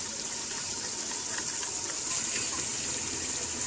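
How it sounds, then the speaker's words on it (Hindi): Liquid pours and gushes steadily as a yogurt spice marinade goes into a pot of chicken, potato and capsicum curry, a close, continuous wet sound with no speech. "ये दही वाला मसाला सारा इसके अंदर डाल देंगे हम।"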